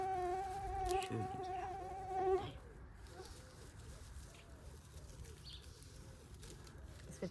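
Mosquitoes whine in a thin, high buzzing drone close to the microphone outdoors at an evening barbecue and campfire, loud for a couple of seconds before fading, followed by faint bird coos in the quieter background.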